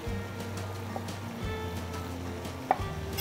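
A knife cuts bacon into fairly large pieces on a cutting board, with soft intermittent taps and one sharper knock over a low background hum.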